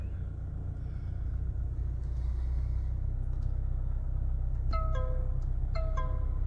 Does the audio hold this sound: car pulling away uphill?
yes